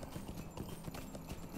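Horse hooves clip-clop at a steady, quick trot in Lord of the Rings Online, the rhythmic hoof beats running continuously and fairly quietly with no talk over them.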